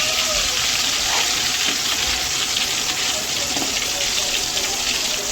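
A dense, continuous sizzle of potato wafers frying in hot oil, steady and close, with no talking.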